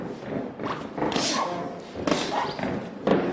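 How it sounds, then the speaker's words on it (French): Punches land in a pro boxing bout between Sadriddin Akhmedov and Steven Danyo, heard as several dull, close thuds in an irregular rhythm over a steady crowd and room murmur. "On entend l'impact des coups"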